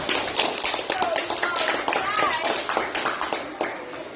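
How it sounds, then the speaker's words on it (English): Children in a classroom clap for a classmate, a short uneven burst of hand claps close by, with chatter and voices running over it. "Give her a clap"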